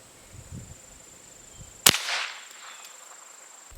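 A single sharp .22 LR gunshot into hickory, from a Walther P22 pistol or Ruger 10/22 rifle, cracks loudly outdoors and then rings off and decays over a couple of seconds, with quiet ambience before it.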